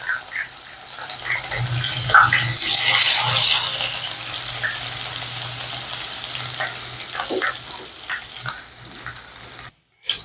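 Chopped ginger and garlic frying in coconut oil in a kadai for a beef roast, a steady hiss and crackle running throughout with occasional stirring scrapes, close and fairly loud, ending in a brief cutoff.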